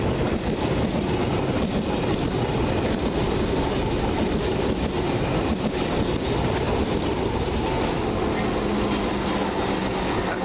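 A London Underground Piccadilly line train bound for Cockfosters rumbles past close by at Stamford Brook, a loud continuous roar of wheels and carriages with rail clatter and a faint squeal.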